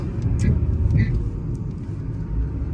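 A car that pulls to the right under braking drives during a brake test, a steady low road rumble and engine hum heard from inside the cabin, with a few faint higher squeaks and clicks.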